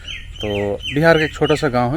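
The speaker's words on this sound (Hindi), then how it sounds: "आपको पीछे चिड़ियों की आवाज़ सुनाई देती होंगी" Morning in the small Bihar village of Sherpur, with birds chirping and tweeting in the background while someone talks close up over them, the calls faint and scattered.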